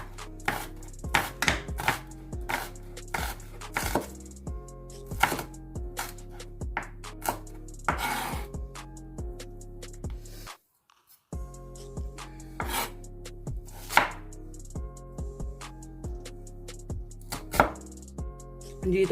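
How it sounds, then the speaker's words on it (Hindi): A knife chops onions on a cutting board for a mixed vegetable curry, giving close, crisp, regular strikes in quick runs with one brief pause partway through. "इसी तरह से ये सारे प्याज काट लेंगे।"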